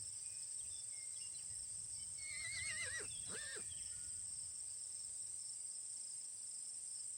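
Wild mustangs grazing on a hillside preserve let out a whinny that rises and wavers for about two seconds, moderately distant, over a steady bed of chirring crickets.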